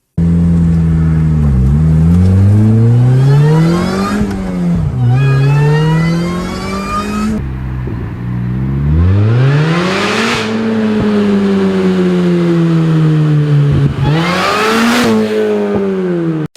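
A Vauxhall VX220 with a 2-liter turbocharged inline-4 in a racing game revs loudly through rising and falling gear changes, with sharp shifts, a brief lift-off, then more hard acceleration, steady and close.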